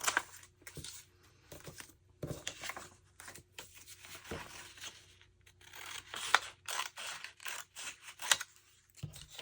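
Scissors snip and slice through old book pages in a repeated series of close, crisp cuts and rustles, with short pauses between strokes and no talking.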